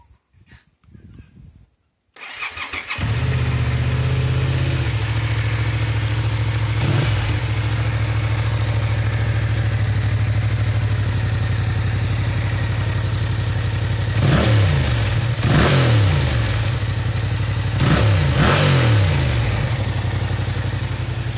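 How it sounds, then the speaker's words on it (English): A Yamaha MT-07 fitted with an Akrapovic exhaust cranks after a brief near-silent moment, catches and settles into a loud, steady idle close by, then gets three or four sharp throttle blips that rise and fall back to idle. "So I'll let you hear the bike started up with this Aquapovic."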